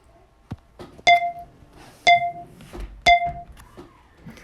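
Three short, bright electronic beeps from a phone at roughly one-second intervals, mixed with soft handling clicks and faint room noise.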